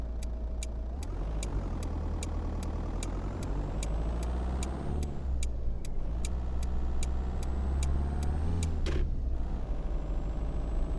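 A Mercedes-Benz Sprinter van engine in American Truck Simulator drones low and steady while cruising, a smooth, quiet hum with a rhythmic ticking like a turn signal over it and a brief shift midway.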